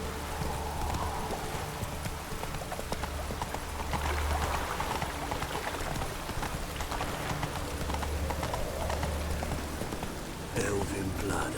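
Roach, the horse in The Witcher 3 video game, trots with a steady rhythmic clip-clop of hooves under soft rain-like ambience, with a voice speaking over it.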